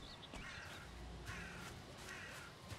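A crow in the video game Valheim caws several times, faint and distant, over a quiet hiss of background ambience.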